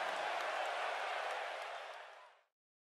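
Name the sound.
crowd applause in WWE 2K18 video game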